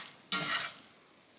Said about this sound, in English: Let's stir it and make sure we're not sticking.